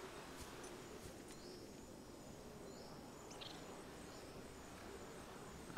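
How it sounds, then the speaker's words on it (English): Crab creature in the underwater survival game Subnautica, giving faint bird-like chirps, several thin high whistles and sweeps over a low steady ambient wash, distant and quiet. "That sounded like a crab."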